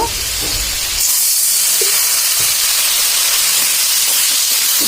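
Water poured into a hot pan of oil, ground coriander and cumin paste bursts into a loud hissing sizzle that holds steady and close with no voices.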